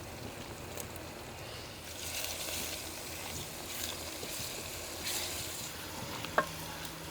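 Tomatoes and garlic-ginger paste fry with onions in a pan in a Pakistani village kitchen, a low continuous sizzle with faint stirring scrapes and one sharp metallic tap near the end.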